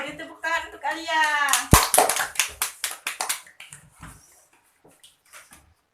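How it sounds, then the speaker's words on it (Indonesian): A third-grade class claps for a pupil named Alia in a school lesson, a short burst of sharp claps after a teacher's voice, with children's chatter fading and scattered taps trailing off. "Ya, beri tepuk tangan untuk Alia."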